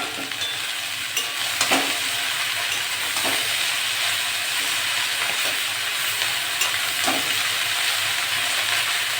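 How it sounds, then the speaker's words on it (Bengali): Prawns fry in a pan with potato and greens, a continuous close sizzle and hiss broken by occasional stirring clicks and scrapes, with no one speaking. "চিংড়ি মাছটা ভাজা ভাজা হয়ে গেছে, আমি এবার আলু আর শাকগুলো দিয়ে দেবো।"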